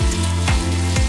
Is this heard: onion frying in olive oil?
yes